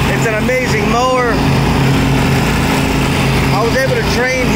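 A Snapper Pro 32-inch belt drive lawn mower runs loud and close with a steady engine drone, while a person talks over it.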